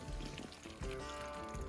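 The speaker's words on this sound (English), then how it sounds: "you can hear the water is pouring out from it right now" Water pours from a leaking water pump on an old tractor, a steady trickling, splashing stream with a few brief surges, quiet and close, with no talk.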